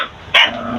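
A single short dog bark rings out once, fairly near and loud, against a quiet indoor background with no talking.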